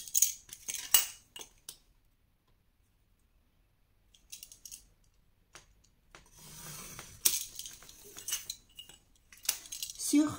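Paper being cut for a scrapbook advent calendar box, with scissors snipping in short clustered bursts separated by quiet pauses, close and fairly faint.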